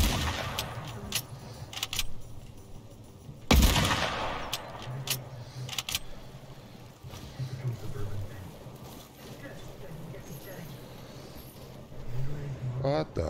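Gunfire in the video game Fortnite crackles in quick bursts and single shots, one loud blast standing out amid scattered pops, with a player talking over the action.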